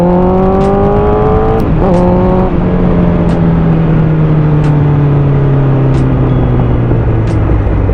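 Honda CBR1000RR sport motorcycle engine revving loudly and close, with steady rising and falling tonal whine and a brief blip around two seconds, no talk.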